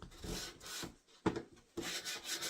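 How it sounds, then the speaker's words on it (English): Close, raspy rubbing of a well-used sanding sponge on a wooden sign in several strokes, separated by short pauses. "This sanding sponge is not new by any means."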